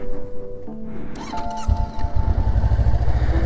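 A Honda NX500 motorcycle cold-started on a freezing morning after a -8° night: a brief starter whine, then the engine catches into a steady, close, rapid idle thrum.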